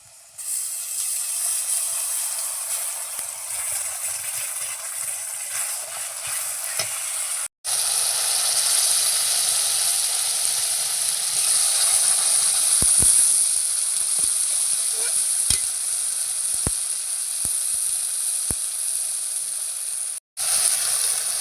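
Onion fried until red, with cumin, ginger, dried and green chilli and garlic paste, sizzles loudly and steadily in a pan, with brief breaks and occasional clicks of a stirring spoon.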